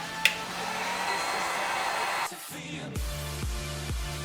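A hair dryer blows with a steady whooshing hum for a couple of seconds, warming a car badge on a 2015+ Subaru WRX, then cuts off, followed by a few rhythmic low thumps.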